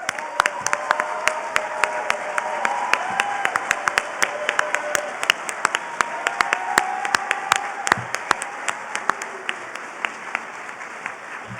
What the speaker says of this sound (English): let's give all of our students who will be graduating this evening from the College of Humanities a round of applause